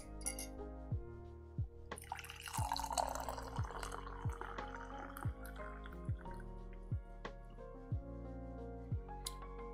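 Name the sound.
tea being poured from a French press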